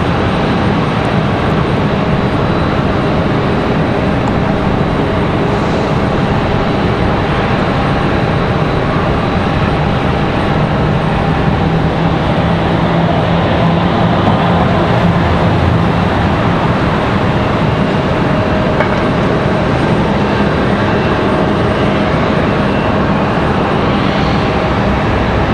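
A Beechcraft King Air 350i twin-turboprop passes over near Raleigh-Durham International Airport, a steady loud broadband roar with a low drone sustained throughout, no voices heard.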